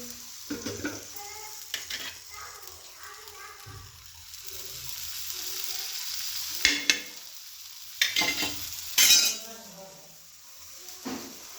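Oil sizzles steadily in a pan while a spicy village-style bhakri flatbread cooks, with scraping stir strokes and a few clinks of utensil on metal breaking through. The sizzle sits close and continuous, with a voice speaking briefly in between.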